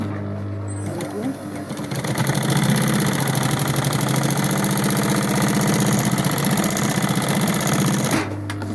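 A sewing machine stitches a fabric pouch, starting up after a second and running in a steady, loud, rhythmic whir with a fast needle chatter for about six seconds before stopping.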